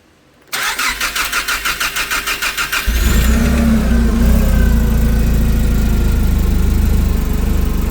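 A used 2020 Clark S30L forklift with about 5,500 hours cold-starts in neutral: a half-second pause, then a rapid rhythmic cranking for a couple of seconds before the engine catches and settles into a loud, steady idle.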